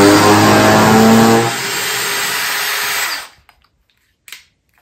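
Cordless drill set to low speed for torque, driving a screw into wood. A loud, close, steady whine sags lower partway through as the screw bites, then cuts off, followed by a brief faint click.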